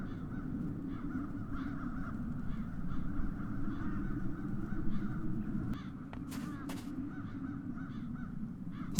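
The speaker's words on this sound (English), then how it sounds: "Now those ghastly crows only need to touch it." Crows cawing in the video game The Dark Eye: Chains of Satinav, repeated harsh caws in an irregular series over a low rumbling ambience, with a couple of sharp clicks near the end.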